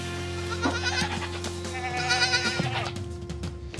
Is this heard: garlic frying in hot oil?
no